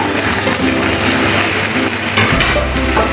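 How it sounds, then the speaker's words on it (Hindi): Green chillies with ginger and garlic paste hit hot oil for samosa filling, giving a loud, dense, continuous sizzle and crackle that stays close and steady, with a brief stir noise near the end and no talk. "ये हमारा तेल गर्म हो गया है। अब इसमें हम लोग डालेंगे हरी मिर्च, अदरक का पेस्ट,"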